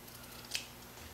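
A single quiet snip of scissors cutting through T-shirt fabric while making a tie bag, brief and close against a near-silent room.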